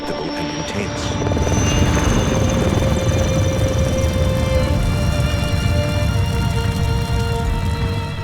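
Two helicopters work over a bushfire spot fire, their rotor and engine drone loud, steady and continuous with a faint whine on top. No voices can be heard.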